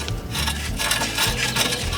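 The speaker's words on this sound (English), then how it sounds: "Using an 18mm socket and a breaker bar, we'll loosen that nut up" An 18mm socket on a breaker bar works a nut loose on a broken-down minivan, giving a steady grinding, rasping strain that runs close and continuous for the whole stretch, with no talking over it.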